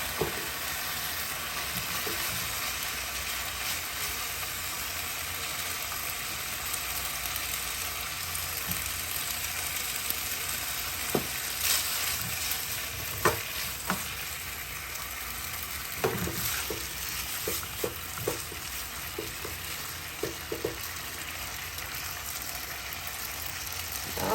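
Pasta stir-fried in a pan with cooked meat gives a steady, close sizzle throughout, with scattered scrapes and clinks of a utensil stirring the noodles.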